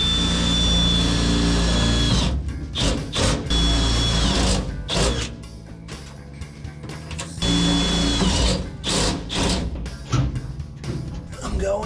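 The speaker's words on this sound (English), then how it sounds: "We get a drill bit. I'll drill it out" Power drill bursts on a stuck part of a rat rod wrecker, several whining spin-ups and stops separated by clatter and short pauses, close and fairly loud.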